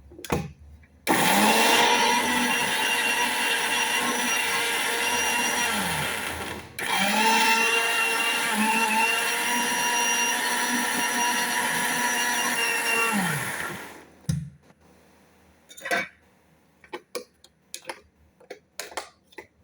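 Electric blender grinding apples with sugar for apple juice, a loud steady whir running about thirteen seconds with a brief pause near the seven-second mark, then stopping into scattered small clicks and knocks.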